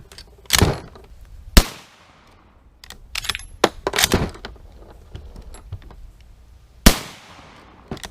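Canadian Long Branch Lee Enfield rifle firing outdoors, sharp cracks heard as three distinct loud shots spaced seconds apart, with scattered clicks and handling noises in between.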